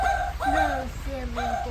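A remote-controlled walking toy dog gives a few quick, high electronic yaps and barks in short bursts, close and fairly loud, each one rising and sliding in pitch.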